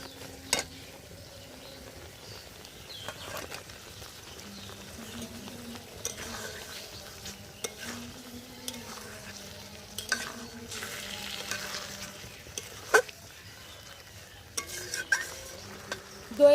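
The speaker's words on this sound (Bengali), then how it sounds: "এখন ডিম দিয়ে দেব" Eggs are stirred into a yogurt masala in a pan for a spicy egg curry, a soft, low sizzle under repeated scraping and tapping of a spoon against the pan, with a few sharper knocks.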